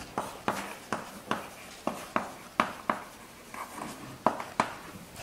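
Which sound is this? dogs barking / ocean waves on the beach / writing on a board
writing on a board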